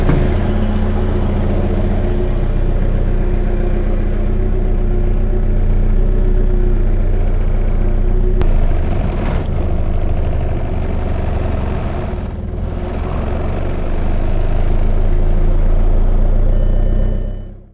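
A VW 1.9 TDI 8V PD diesel engine idles steadily and loudly, with a constant low rumble and clatter throughout and only slight dips near the end.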